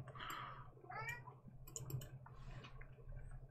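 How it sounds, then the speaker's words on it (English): A cat meows several times in short, rising calls close by, mixed with soft clicks over a faint steady hum. "You gotta meow like every 5 seconds, don't you?"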